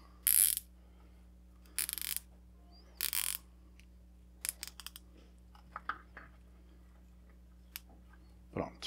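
A plastic zip tie being ratcheted tight around bonsai trunks, a few short bursts of close rattling clicks followed by softer scattered ticks, with a brief spoken word.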